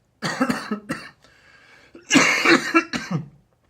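A burst of harsh, close coughs from someone with a bad cold, in two rough clusters separated by a short pause, with throat-clearing texture.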